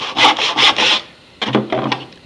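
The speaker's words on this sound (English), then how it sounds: "Nice sharp saw is good for this." A sharp hand saw cuts wood for a rebate joint, its close, loud rasping strokes coming in a quick rhythmic series, a brief pause, then a few more strokes.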